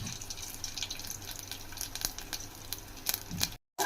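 Two dried red chillies, crushed garlic and seasoning spices fry in hot oil with a steady close crackle and spit, sharper pops here and there, before a brief cutoff and resumption.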